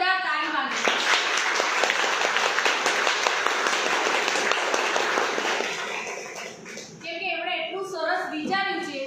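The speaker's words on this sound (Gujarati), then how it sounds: "જોરદાર તાળી માંગે" An audience at a business presentation in a hotel hall claps loudly for several seconds. The applause then thins and gives way to voices talking.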